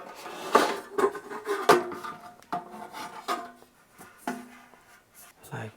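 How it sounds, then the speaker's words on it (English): The plastic crisper plate of a Gourmia 7.6-liter air fryer, with silicone rubber on each corner, is pushed down into its basket. Scraping, rubbing and knocking sounds come in short irregular bursts at close range, with talk alongside. "after washing this crisper and this basket, you have to insert it downwards"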